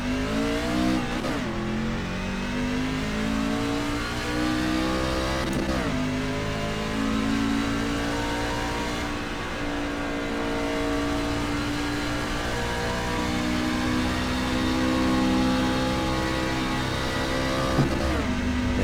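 A race truck in a racing video game drives a lap on a test run, its engine droning steadily and loudly throughout with rising and falling revs at gear shifts, no one talking.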